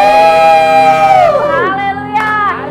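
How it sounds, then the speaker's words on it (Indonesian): Church congregation at an online teen service shouting and cheering for Jesus, a loud sustained crowd roar with whoops rising over strong harmonic tones that bend and fade, voices swelling again near the end. "Gak apa-apa kita teriak buat Tuhan Yesus."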